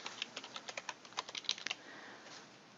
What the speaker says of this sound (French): Puis, on va écrire le nom de la ville.